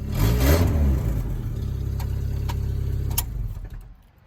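A Chevrolet S10 drift truck engine revs loud and close, a deep steady rumble that swells early, holds, then drops away toward idle at the end, with no talk over it.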